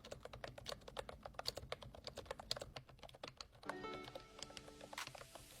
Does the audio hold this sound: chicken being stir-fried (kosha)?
no